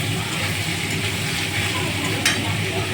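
Onions frying in a pan for mutton curry, stirred for a long time: a loud, dense, continuous sizzle and hiss fills the clip, with a single brief scrape near the end.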